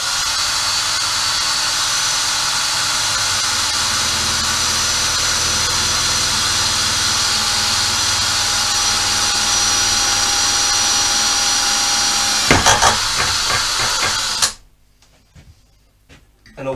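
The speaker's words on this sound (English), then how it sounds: "I'll drill some holes, bend the other one" Power drill boring holes in a metal part for a motorcycle fork upgrade, a steady high whine running continuously before a short burst of grinding and clatter, then abrupt quiet.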